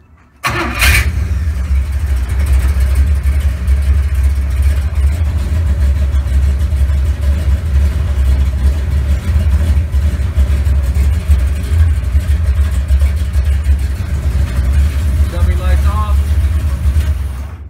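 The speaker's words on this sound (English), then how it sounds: "This is a cold start." An old car with an internally regulated GM three-wire alternator conversion cold-starts in below-zero weather. The engine catches with a sharp burst, then settles into a loud, steady idle that runs on without a break.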